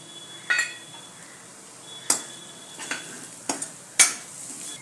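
Onion fries in a pan with chilli powder and dal tadka masala, a faint sizzle broken by a few sharp scrapes and clinks from a spoon against the pan.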